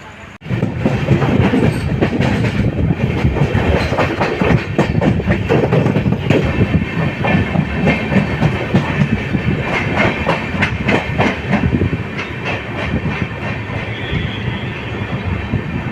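A passenger train runs on rails toward Jolarpettai Junction, giving a loud, steady rumble with rapid rhythmic wheel clatter that continues throughout, with no talking.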